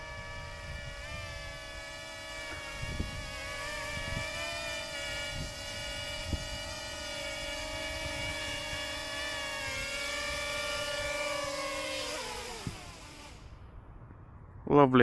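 A Ryze Tello drone descending for a hand landing, a steady high buzzing whir of small propellers with a few soft knocks, then the motors wind down and stop near the end.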